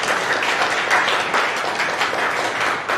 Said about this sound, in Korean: 한번 우리 다 같이 박수로 환영해 주시면 좋겠습니다.